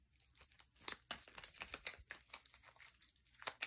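Tarot cards shuffled by hand close up, a quiet run of crisp papery riffles and flicks in uneven bursts, with no voices.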